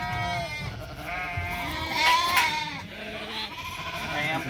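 Sheep and lambs bleat repeatedly at close range during sorting at Green Pastures Farm, overlapping wavering cries over a busy, noisy pen background.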